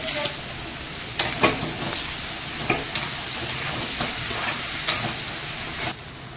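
Pieces of taro frying in hot oil give a dense, even sizzle up close, broken by periodic stirring clinks and scrapes.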